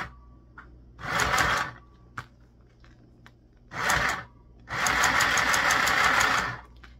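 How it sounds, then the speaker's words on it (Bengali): A small sewing machine stitches the other side of a piece in two separate runs, first a short burst and then a longer steady whirring hum, with quiet pauses between. "এখন আমি আরেক পাশ সেলাই করব"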